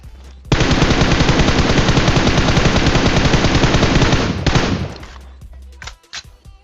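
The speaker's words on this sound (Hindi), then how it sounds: "जब बंदा इन पे नहीं देख रहा होता तब तो इनसे बराबर फायरिंग होती है" A sustained, very loud burst of automatic gunfire from a battle royale video game match rattles on for about four seconds, then cuts off, leaving a few scattered shots and softer noises.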